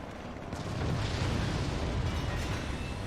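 Flares launched in the fort-building strategy game Forts during an assault on a Star Destroyer, producing a loud, continuous rumbling roar of bursts and pops that swells after the first half-second and holds steady.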